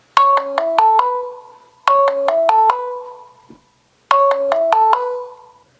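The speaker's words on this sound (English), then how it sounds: "I'm just going to go to phone ringtone" A OnePlus One (OPO) smartphone plays its ringtone at full volume: a bright descending electronic melody of quick chiming notes, repeated three times with short gaps, loud and close, no talking.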